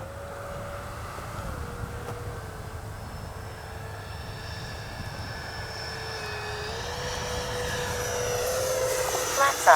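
A Freewing Red Hawk T1 70mm radio-controlled jet flies past with its landing flaps down. Its ducted-fan whine glides up and down in pitch and grows louder toward the end, while people talk nearby.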